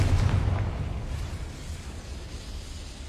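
The explosive Confringo spell cast in a video game, a deep booming blast at the start that rumbles and fades into a low tail.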